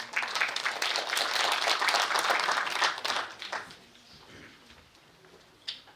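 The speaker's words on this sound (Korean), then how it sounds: "뜨거운 박수로 환영해 주시기 바랍니다." An audience at a regional association's general meeting and inauguration ceremony applauds a new leader, a dense burst of clapping for about three seconds that then fades to scattered claps in a quiet hall.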